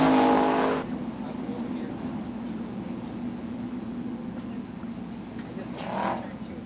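Sprint cars roll around a dirt oval at Ionia Raceway Park during a heat race, their engines droning steadily at a distance after a brief loud burst at the start, with a voice talking over them.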